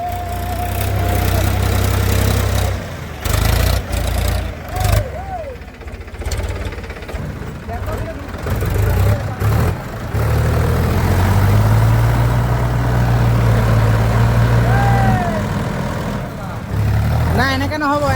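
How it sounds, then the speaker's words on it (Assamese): A Mahindra tractor stuck in mud strains with a heavy low diesel rumble and knocking that rises and dips as it pulls, loud and close, while people shout and talk over it. "মহেন্দ্ৰ দম থকা ট্ৰেক্টৰ"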